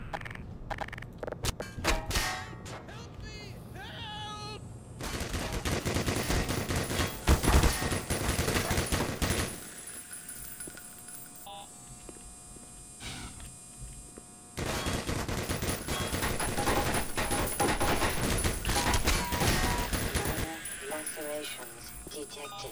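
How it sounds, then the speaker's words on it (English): A gun fires at the player in the shooter Black Mesa, sending dense, loud volleys of rapid shots over a long stretch that pause briefly and then resume, with a voice talking in parts. "that gun is mean! Just randomly shooting at me."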